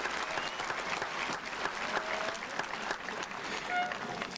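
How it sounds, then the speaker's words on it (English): Dense crowd applause at a high school commencement ceremony, a continuous patter of many hands clapping with a few scattered sharper claps, steady throughout. "Let's give them both a big round of applause"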